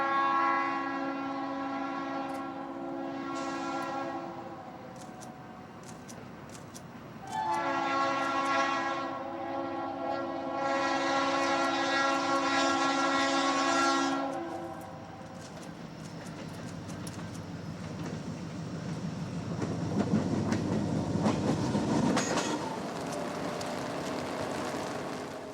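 Eastbound Union Pacific Z freight train on the Moffat Line near Radium, with its horn sounding long blasts in two bursts, then the rumble and clatter of passing cars growing louder.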